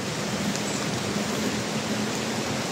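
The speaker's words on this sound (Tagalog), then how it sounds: "Ulan na guys." Steady rain falls outdoors in a continuous, even hiss, moderately loud and close, with no voices over it.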